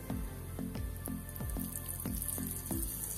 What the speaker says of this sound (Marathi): स्लो फ्लेमवरती मच्छी चांगली फ्राय करून घ्यायची